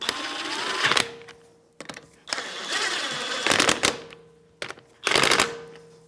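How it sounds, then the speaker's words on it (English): A 17mm socket on a ratchet drives the rear stabilizer link bolts on a 2015-2024 Jeep Renegade, giving four bursts of close, loud mechanical ratcheting and whirring separated by short pauses. "Now 17mm socket, I'm just going to bottom them out."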